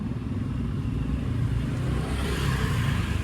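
A Yamaha NMAX scooter with 5,500 km on it idles steadily, its engine giving a continuous low rumble with a faint rattle, close and unbroken throughout.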